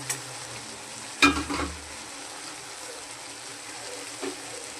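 Chopped bottle gourd is dropped into a hot pan and stirred, giving one brief clattering burst followed by a soft, steady sizzle of frying in a quiet kitchen, with a faint second stir near the end.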